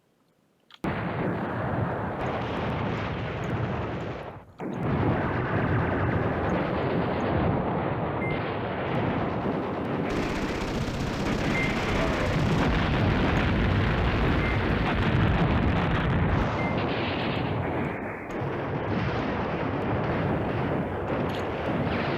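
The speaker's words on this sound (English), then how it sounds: "We've got an airstrike." Airstrike explosions in the Command Ops 2 war game, fought in mountain foothills at a pass: a dense, continuous barrage of loud booming blasts and rumbling detonations, with a brief drop in the noise near five seconds before the bombardment resumes.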